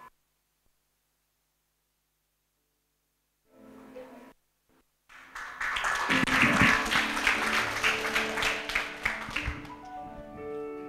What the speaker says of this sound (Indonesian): Berikan tepuk tangan sekali lagi buat Tuhan ya Bapak Ibu